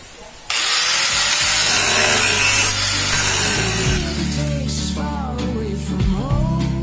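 A power saw cuts through wood for a bar chair, starting abruptly and running loud and steady for several seconds, then easing into lower grinding and rubbing sounds near the end.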